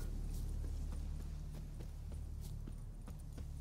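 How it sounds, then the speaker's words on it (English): Horse hooves clip-clop in The Witcher 3: Wild Hunt, a steady series of soft, evenly spaced footfalls over a low ambient game drone, with no talking. "Horse. See?"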